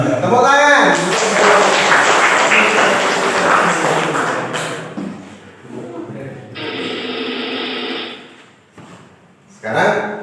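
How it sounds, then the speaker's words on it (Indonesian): Children in an Indonesian classroom clap their hands together in a loud, dense burst lasting a few seconds, which then fades. A short rhythmic patter and scattered classroom noise follow. "Tepuk tangan."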